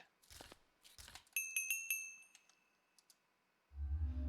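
A golem bell crafted from quartz and a stick rings in a video game as a quick run of bright, close chimes, preceded by a few soft clicks and followed by a low rumble.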